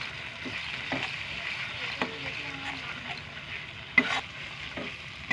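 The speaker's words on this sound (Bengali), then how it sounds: "এবার আমরা ভালো করে আরেকটু কষিয়ে নেব" Ground mustard paste masala is stirred in a hot pan, giving a quiet, continuous sizzle with the soft scrape and tap of a spoon against the pan.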